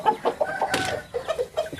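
Rooster in molt making raspy, wheezing, snoring breathing sounds: a series of short, rough, clucking calls close up, one slightly louder and harsher in the middle.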